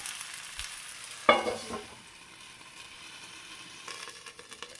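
Oats roti fries in oil in a covered pan, a soft steady sizzle with one sharp clatter of the lid, quiet and close.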